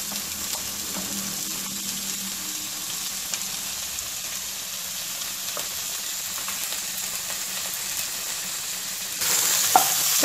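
Chopped onions and green chillies sautéing in a pan for a mushroom masala: a steady, close sizzle with occasional stirring scrapes, growing louder briefly near the end, no speech.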